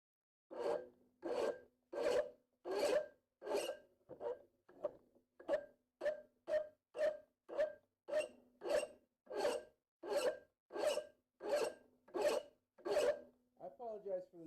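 Metal files rasping on a workpiece held in a vise while making a round punch, a steady series of about twenty rhythmic scraping strokes, each with a harsh squealing edge, close and loud with no talk.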